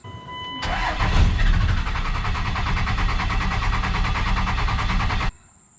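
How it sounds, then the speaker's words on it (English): A 2001 Cummins diesel engine with a VP44 injection pump is cranked by the starter, briefly catches, then keeps cranking in a long, loud, steady churn before stopping abruptly. "so you can see how it catches for a second and then it has a long crank"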